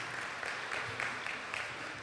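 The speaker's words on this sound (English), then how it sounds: "Let's give her a round of applause." Brief applause from the audience at a community meeting on strategies to address gun violence, a moderate patter of clapping hands with a few sharper claps standing out.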